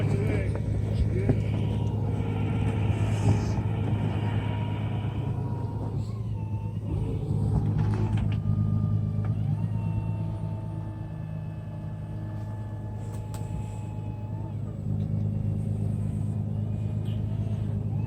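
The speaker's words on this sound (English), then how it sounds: "I'm gonna pull my car up just a little bit." A car engine rumbling steadily as the car creeps forward on a ski trip near Lake Tahoe: a continuous low, loud drone throughout, with people talking over it and some background noise.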